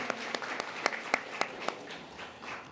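An awards-ceremony audience at the First Nations Media Awards claps steadily, with a few sharp, distinct claps standing out above a soft, even patter.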